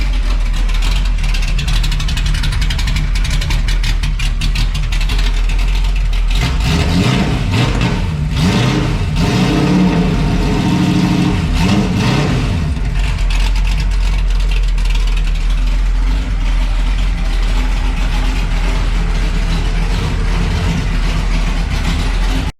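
A Dodge Cummins diesel truck runs after repairs with new headers and an X pipe, its loud, steady rumble close by, swelling into a rougher, heavier surge for several seconds midway before settling back to a constant drone.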